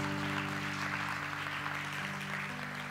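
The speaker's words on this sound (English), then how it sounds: "Give the Lord a hand clap offering here this morning." A church congregation gives a hand-clap offering during a Sunday morning service, a moderate, even spread of applause over steady sustained keyboard or organ chords.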